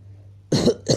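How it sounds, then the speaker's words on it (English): Two quick, harsh coughs close to the microphone, following a short stretch of near silence. "I have a slight cough."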